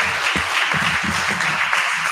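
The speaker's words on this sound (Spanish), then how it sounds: "Aplauso para la profesora." Applause breaks out for a professor at a Venezuelan history handover event, a steady, dense wash of clapping with a few low thumps, moderately loud throughout.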